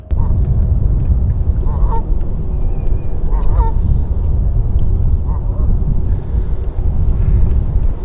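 Geese honk repeatedly in marshland, a chorus of scattered calls at middle distance over a loud, constant rumble of wind noise, with several birds overlapping at irregular intervals.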